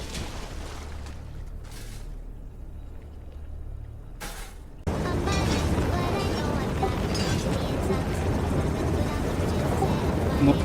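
A dropship comes in to land in the Helldivers 2 video game: after a quiet stretch with faint game sounds, a loud, steady engine roar with rumbling thrust suddenly takes over and holds to the end.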